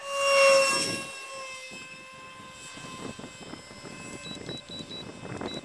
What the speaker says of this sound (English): The MikeysRC Eclipse 400 jet.